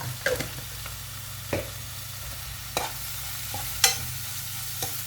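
Grilled catfish chili paste with sugar is stir-fried in a pan, with a low, steady sizzle under scattered scrapes and taps of a spatula about every second. Quiet and close, with no voices.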